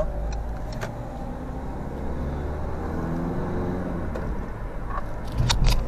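A Citroen with about 42,470 km on it being driven, with a steady, loud interior engine and road rumble throughout and a few small clicks and knocks near the end.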